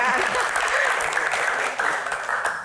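An audience applauds loudly and continuously, a thick crackle of clapping that holds steady throughout with slight swells and dips.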